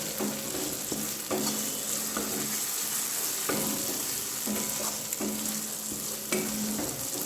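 Mustard paste with green chilies sautéing in a pan, a steady oily sizzle broken by repeated scraping stirs at an irregular pace, close and fairly loud with no talking.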